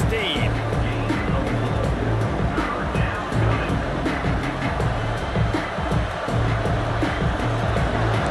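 Stadium crowd in the video game College Football 26, a steady, broad roar of a large home crowd filling the background while commentators talk over it throughout.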